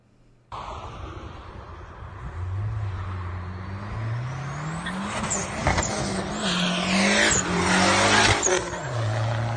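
Dodge SRT4 spinning its wheels: a loud engine drone rises and wavers while tires squeal and scrub, building into harsh, noisy screeching bursts near the end, with no talking.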